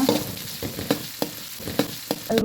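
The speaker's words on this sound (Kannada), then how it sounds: "ಈಗ ಚೆನ್ನಾಗಿ ಮಿಕ್ಸ್ ಮಾಡುವ" A masala of crushed garlic, byadgi chilies and onion is stirred in a pan: a soft sizzle under repeated scraping strokes of a spoon, close and fairly quiet, with no talking.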